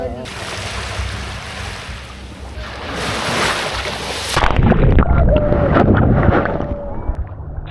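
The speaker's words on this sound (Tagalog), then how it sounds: "Ang taas ng dagat dito!" Loud, high sea waves surge and crash at the shore in General Santos, with broadband surf and gusts of wind across the microphone throughout and a heavier wash near the end.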